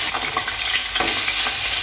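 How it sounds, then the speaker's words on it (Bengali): Potatoes fry in hot oil in a wok, giving a loud, continuous crackling sizzle with occasional stirring scrapes and no talking. "কড়ার মধ্যে তেল দিয়ে দিয়েছি এখন আমি আলুটা ভেজে নেব"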